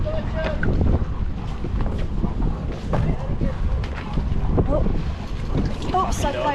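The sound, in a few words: wind while sailing on a sailboat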